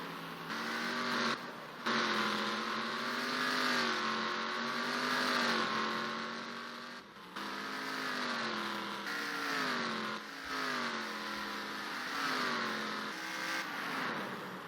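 Race car engines whine loudly through a NASCAR race at Sonoma in the rFactor racing game, rising and falling in pitch as the cars accelerate and brake through turns, continuous and close with brief dips between gear changes.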